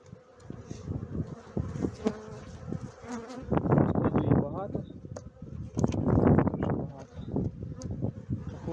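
Honeybees buzz steadily and close by during an early-April inspection and expansion of colonies in polystyrene foam hives, the insect drone swelling louder in two stretches, with voices murmuring intermittently.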